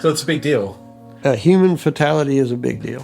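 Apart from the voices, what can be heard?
No everyday noises stand out.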